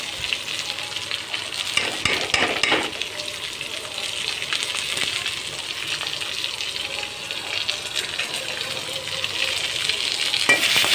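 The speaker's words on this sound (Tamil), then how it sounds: "குடமிளகா நல்லா வதங்கட்டும்" Capsicum sautéing in a pan for a vegetarian egg stir-fry, a steady close sizzle and hiss with stirring scrapes running throughout, with no talk.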